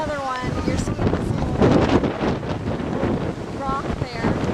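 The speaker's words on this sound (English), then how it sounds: "The waves are hitting the rocks and the people are getting just soaked." Hurricane-driven ocean waves crash against coastal rocks in Bermuda under heavy, steady wind roar buffeting the microphone, with voices talking over the surf.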